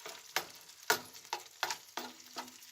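Vegetables for a traditional Serbian breakfast fry and get stirred in a pan over low heat, with a soft sizzle broken by regular scraping stirs about every half second, close and fairly quiet.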